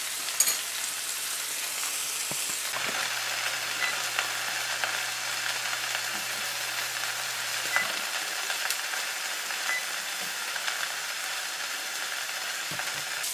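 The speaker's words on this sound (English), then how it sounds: "we're going to have it be basting and grilling on this side for about 3 to 4 minutes" Steak sizzling in a butter-basted pan, a steady close frying hiss with occasional clinks and stirring noises, continuing without pause.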